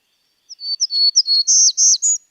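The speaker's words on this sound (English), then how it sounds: "it's a Townsend's warbler" A Townsend's warbler's song played from a recording: a clear run of high, buzzy wheezy notes that rise and quicken toward the end, about two seconds long, alone against silence.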